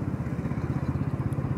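Motorcycle engine running steadily up close on Kachahri Road in Gumla, Jharkhand, with a continuous pulsing low rumble and no talk over it.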